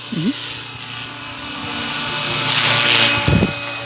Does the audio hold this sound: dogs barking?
no